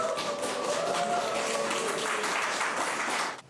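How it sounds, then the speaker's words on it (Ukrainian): A room full of wedding guests clapping steadily, a warm continuous patter that cuts off abruptly at the end. "Ваші оплески."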